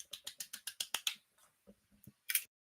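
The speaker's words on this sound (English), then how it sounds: "Let me just golf clap." Slow, sarcastic golf clap: about eight soft, evenly spaced hand claps that fade out, followed by a few faint knocks and one last brief clap, in a quiet farm barn setting.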